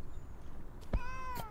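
A single short cat meow rings out in the video game Please, Touch the Artwork 2, a bright harmonic call that rises and falls after a soft click, heard alone over a low background hum.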